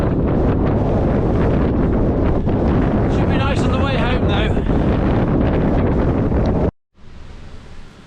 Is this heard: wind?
yes